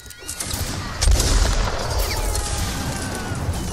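Musket gunshots during a Mount & Blade siege battle, a dense crackling volley of many overlapping shots with booming thumps, loud and continuous against a noisy battlefield backdrop.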